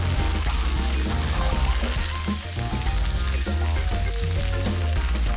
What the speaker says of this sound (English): And then we add in 1 cup bean sprout, stir fry for 2 minutes.